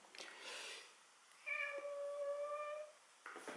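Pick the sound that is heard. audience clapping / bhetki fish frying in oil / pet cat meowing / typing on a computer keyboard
pet cat meowing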